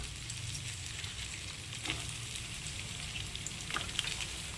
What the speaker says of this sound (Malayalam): ബട്ടർ ഒന്ന് മെൽറ്റായി വരുമ്പോഴേക്കും നമുക്കിതിലേക്ക് ഒരു നാല് മീഡിയം സൈസ് സവോള നീളത്തിൽ അരിഞ്ഞെടുത്തതാണ് അത് നമുക്ക് ഇതിലേക്ക് ഇട്ട് കൊടുക്കാം